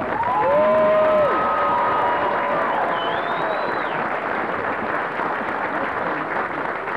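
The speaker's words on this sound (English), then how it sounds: "let's give these drill sergeants a round of applause" Crowd applauding drill sergeants at an Army graduation ceremony at Fort Benning, steady broad clapping from a large outdoor audience with whistles and a few whoops riding over it, strongest at the start and holding through.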